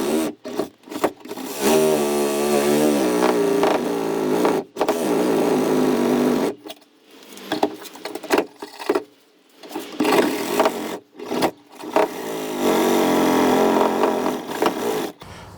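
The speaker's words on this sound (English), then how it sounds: "I'm going to be using my Sawzall with one of these blades." A reciprocating saw buzzes loudly through metal door hinge pins in several long bursts, broken by short pauses and brief stops.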